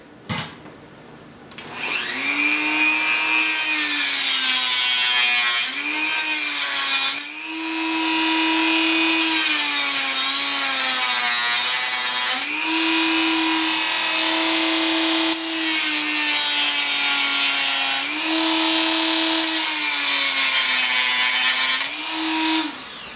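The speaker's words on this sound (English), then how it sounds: "We've got to leave the bracket but cut off these little nubs right here." Power tool cutting small plastic nubs off a plastic aquarium bracket for a Coralife BioCube tank, a loud, steady high-pitched whine that dips briefly in pitch as it bites in several separate cuts, heard up close with no talking.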